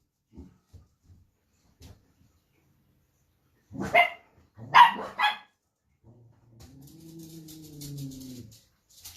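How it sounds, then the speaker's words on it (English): Dogs bark in the background of a quiet room, with a few faint soft knocks early on, then a sharp burst of loud barks in the middle, followed by lower drawn-out whines and growls near the end. "Excuse the dogs in the background."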